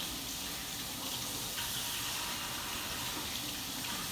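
A kitchen tap runs in a steady, even gush while vegetables are rinsed in the sink, a constant hiss of water with no talking.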